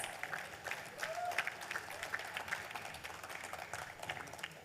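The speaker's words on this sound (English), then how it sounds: "Come on, ladies and gentlemen, a huge round of applause." Audience applause at the VIP inauguration and opening ceremony of an expo in Mumbai, a steady continuous patter of many hands, moderately distant and fairly quiet, with crowd murmur mixed in.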